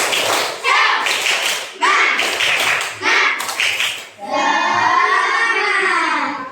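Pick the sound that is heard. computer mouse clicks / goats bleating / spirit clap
spirit clap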